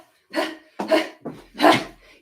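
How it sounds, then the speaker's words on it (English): A rescue dog makes three or four short breathy huffs or barks, close up in a quiet room, each burst separated by brief silences. "So this is my dog."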